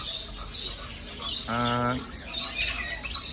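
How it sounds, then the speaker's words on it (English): Rescue parrots, including lovebirds and yellow-crowned Amazons, call and squawk in a large aviary, with one loud drawn-out harsh call among scattered chirps and a brief spoken word. "You can see that the aviary's got quite a lot of birds in."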